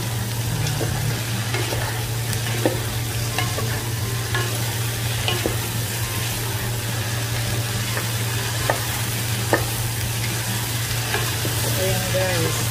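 Bitter gourd (ampalaya) with curry seasoning and salt being stirred and sautéed in a pan, a steady sizzle with scraping spatula strokes throughout over a constant low hum.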